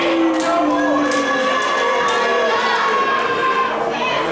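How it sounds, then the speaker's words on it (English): A wrestling crowd reacts unhappily to a tap-out finish, a loud sustained mass of shouting and jeering voices with scattered higher yells, filling the whole stretch. "The crowd not too happy with that one."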